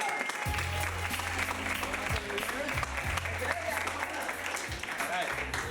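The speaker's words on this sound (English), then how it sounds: "Round of applause" An audience at an improv comedy show applauds volunteers coming up on stage, with steady clapping throughout and a low hum running underneath.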